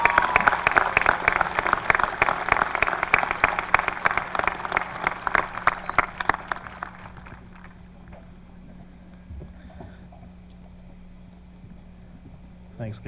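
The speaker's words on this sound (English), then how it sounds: "If we could please have a round of applause for our wonderful advisors." A high school graduation crowd claps loudly and densely for the advisors, the applause fading out over several seconds into quiet room tone with faint scattered sounds.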